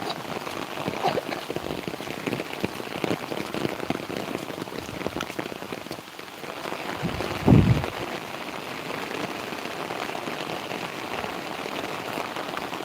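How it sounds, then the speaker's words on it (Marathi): Steady rain pours down outdoors beside a river during a fishing outing, a dense, loud hiss of drops on surfaces that continues throughout, with a brief louder thump partway through. "पाऊस चालू झालेला आहे"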